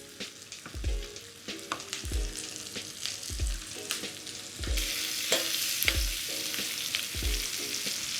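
Cardamom seeds sizzle and pop in a frying pan alongside pork chops and butter, a continuous bright sizzle broken by repeated soft thumps and crackles, close and steady with no talk.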